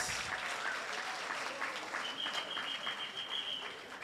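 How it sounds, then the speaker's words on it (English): Applause from a crowd at a teachers' union International Women's Day 2024 event, a steady wash of many clapping hands at a distance, fairly faint, with a brief high whistle partway through. "another big round of applause"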